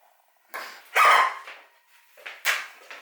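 A small dog gives a few short, sharp barks close by, bursts spaced irregularly with quiet gaps between, in a room where sewing work is under way.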